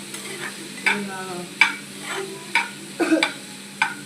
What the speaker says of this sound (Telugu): ఆనియన్స్లో కారం పట్టేలా ఒక 5 మినిట్స్ దీంట్లో మాగనివ్వాలన్నమాట